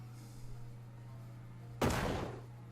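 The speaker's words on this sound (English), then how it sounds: "You've seen some disappointing explosions in your life." A single dynamite blast in the video game Shadows Over Loathing, a sudden burst that decays over about a second, heard over a steady low electrical hum.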